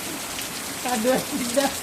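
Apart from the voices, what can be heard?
heavy rain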